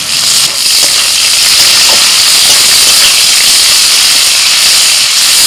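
Chopped onion hits hot oil in a Bengali home kitchen, already tempered with bay leaf, dried chilli and five-spice, giving a loud, sustained hissing sizzle with a few crackles, close and alone.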